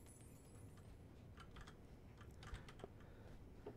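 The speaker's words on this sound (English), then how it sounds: "He's typing something. Typing up a storm." Quiet, rapid keyboard typing with irregular clicks and taps, faint against a low background hum.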